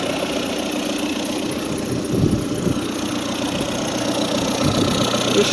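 A Volkswagen Jetta diesel engine with faulty glow plugs idles close by, a steady rough clatter with a faint knocking pulse that holds throughout, no one talking.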